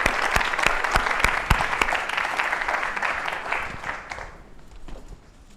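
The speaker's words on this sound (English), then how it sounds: "shall we give them a wonderful round of applause?" An audience at an MIT design event applauds warmly, a dense patter of claps that gradually thins out and fades toward the end.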